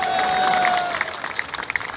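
An audience applauds at a political rally speech by Navjot Singh Sidhu in Chandigarh: dense, steady clapping from a crowd that thins into scattered claps toward the end.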